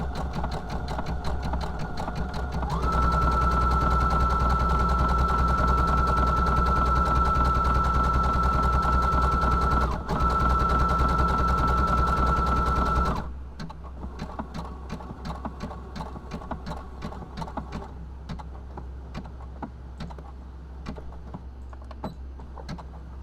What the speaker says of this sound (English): It's easier for me to speed the machine up than it is to edit the speed in.